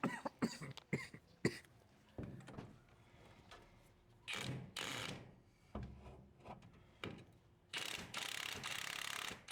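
A ratchet loosens the top bolt of a coilover strut in bursts of mechanical clicking between pauses, with a few sharp knocks and shuffling noises in between.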